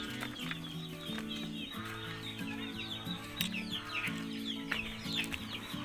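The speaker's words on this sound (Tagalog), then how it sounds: "ayan yung mga manok natin" Backyard chickens cluck steadily and fairly close on a small farm, with repeated soft calls and scattered chirps overlapping throughout and no talking.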